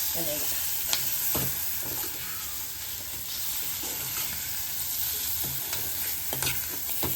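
Dry fish (karuvadu) fry being stirred and turned with a ladle in a pan, giving a steady close sizzle with repeated scraping strokes throughout and no talking.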